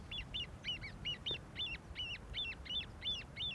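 Baby grebes at an airport-side waterside location give a regular series of high, thin peeping calls, about two per second, steady and fairly close over a soft low background rumble.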